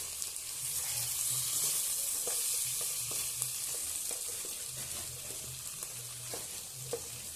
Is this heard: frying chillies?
yes